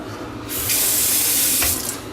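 During an apartment move-out inspection, a sink faucet turns on and runs in a steady, bright rush of water for about a second, then shuts off.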